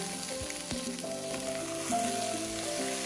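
Tomatoes and a seasoning cube fry in a pan with a soft, steady sizzle, close by and fairly quiet, with a few light clinks of stirring.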